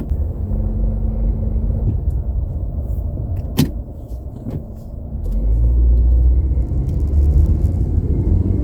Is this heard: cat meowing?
no